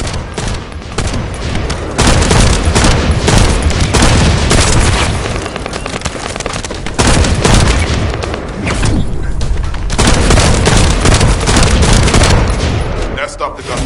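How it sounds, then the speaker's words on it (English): Dense gunfire in the video game The First Descendant, with rapid automatic bursts and heavy booming shots, loud and continuous, with a pause near two seconds and a brief lull around seven. "That stopped the gunfire."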